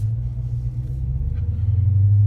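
A car engine runs with a steady low rumble as the car pulls away slowly in first gear, loud and close, the tone rising a little toward the end.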